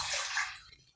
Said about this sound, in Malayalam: ഇനിയിപ്പോൾ ഇതിലേക്ക് ലാസ്റ്റായിട്ട് 2 ഗ്ലാസ് വെള്ളം ഒഴിക്കാം.